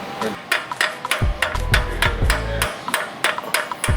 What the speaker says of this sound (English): Honestly, need to use this hammer.